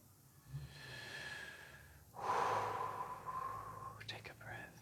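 A person draws a slow, audible breath at close range, a soft airy inhale and exhale rising after a quiet moment, with faint background hum.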